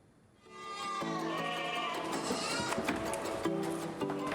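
Goats bleat almost continuously in a farm pen, several overlapping wavering calls, loud and close, with a new bleat starting every second or so and no talking heard.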